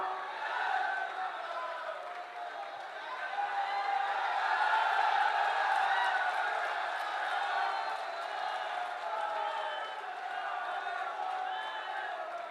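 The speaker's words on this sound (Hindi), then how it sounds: "अब तालियां बजाना है बहुत।" A large outdoor rally crowd at a development-project inauguration event in Mahoba claps and cheers in a steady, dense wash that swells in the middle and holds at a fairly even level throughout.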